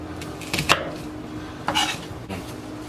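Knife chopping bell pepper and onions on a cutting board while cooking a large pot of étouffée, with a few distinct crisp chops spaced apart, close and moderately loud, no talking.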